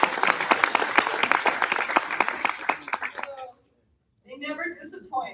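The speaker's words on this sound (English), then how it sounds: "Well, that deserves a round of applause." An indoor conference audience at a funding summit applauds with dense, steady clapping that fades out after about three seconds, followed by a pause and then a person speaking.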